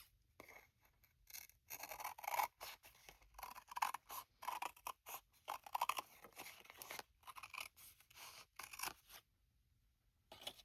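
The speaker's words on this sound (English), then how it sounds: "what I'm going to do now is I'm going to cut it down right here" Scissors cut through a journal writing board in a quiet room, making a close series of crisp, crunchy snips in irregular bursts with short pauses between them.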